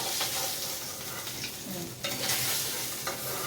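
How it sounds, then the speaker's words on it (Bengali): Pieces of catla fish fry in a pan with a steady close sizzle, broken by scraping stirring sounds throughout, and no talking. "এই যে মাছগুলো প্রায় ভাজা হয়ে গেছে, নামিয়ে রাখছি"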